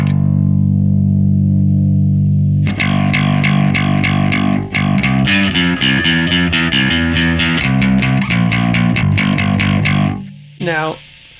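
Bass guitar with its mid frequency boosted, a rapid run of distorted, honky plucked notes after a held low note, loud and close, ending with a brief sliding note.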